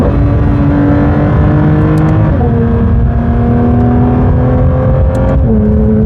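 A Lamborghini Murcielago SV engine drones loud and close on bumpy English countryside lanes, its pitch stepping up and down with the revs over a steady rumble, with no talk.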